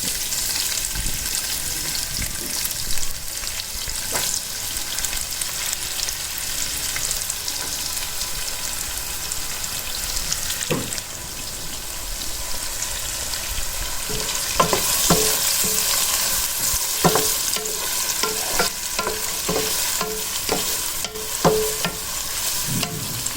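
Onion sautéing in hot oil with bay leaf, cinnamon, cloves, fennel and pepper for chicken drumstick curry: steady sizzling and frying with repeated scraping stirs of a spoon in the pan, close and continuous, without talk.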